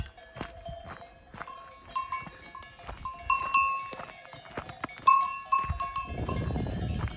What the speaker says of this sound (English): Morning wake-up call from all the cows as we come down the valley.